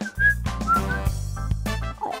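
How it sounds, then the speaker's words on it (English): A melodic whistled tune from a video game soundtrack over a steady low musical backing, bright and close, with the notes gliding and repeating briefly. "Except that damn whistling song."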